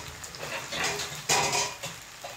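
Beaten eggs being stirred into chicken pasta in a pan, with a utensil scraping and clinking against the pan in a run of soft, uneven stirring strokes and one sharper knock partway through, close up with faint sizzling underneath.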